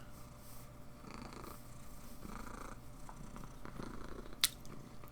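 A pet cat purrs softly up close in a quiet room, a faint rhythmic rumble rising and falling with each breath, with one brief sharp click near the end.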